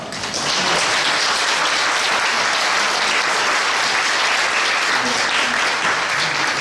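A church congregation applauds family members at a retirement and installation service, a thick, even wall of clapping from many hands that starts abruptly and holds steady throughout, with a voice faintly beneath.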